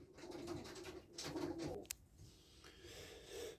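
Tumbler pigeons coo in low, soft, repeated phrases, fairly faint and close, with a short click partway through and no voices.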